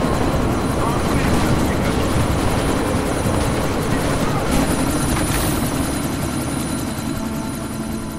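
Helicopter in the video game Deus Ex: Mankind Divided, a loud, constant rotor roar with rapid chopping throb filling the scene, nearby and unbroken, with voices speaking over it.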